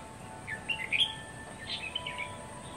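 Small birds chirp in short, bright bursts during a bird-trapping outing late in the afternoon, the calls fairly close over a steady outdoor background.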